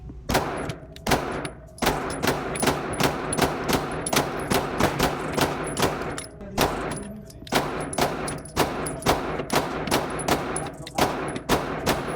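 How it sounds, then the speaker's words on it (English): Rapid, steady gunfire from a Zev OZ9C Hypercomp compensated 9mm pistol on a range, with loud sharp shots coming in quick close strings and only brief pauses between them. "this gun shot flawlessly, no issues at all"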